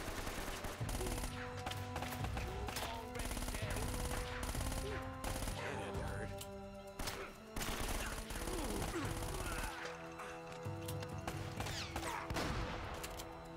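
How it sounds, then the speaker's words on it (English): Grenade blasts and gunfire from the video game Uncharted: Drake's Fortune, a dense and constant barrage of shots and explosions layered over game music, loud throughout with no letup. "Did everybody decide to throw their grenades at once?"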